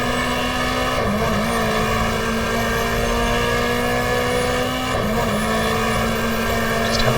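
Small Peugeot touring race car in GTR2 racing simulation, 1994 Australian Manufacturers Championship mod at Lakeside circuit: steady, loud engine drone held near-constant throughout with brief pitch dips around gear changes, no talking.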